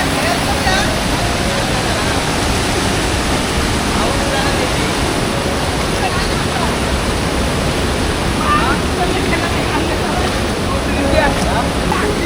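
A deep rocky river rushing over stones, a loud constant broadband wash of flowing water with no let-up, close by and dominating the scene.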